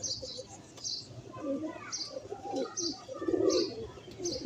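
Pigeons coo repeatedly at a breeder's loft, soft low rolling calls overlapped by brief higher chirps. Close and steady, with a faint background hum.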